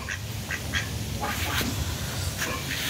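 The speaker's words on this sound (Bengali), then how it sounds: "এটা ক্যাম্বেল হাঁস, এটা ক্যাম্বেল হাঁস, এর ডিমটা নীল হয়।" Campbell ducks quacking in a backyard flock, a handful of short nasal quacks scattered across a few seconds, close by and moderately loud over a constant low outdoor hum.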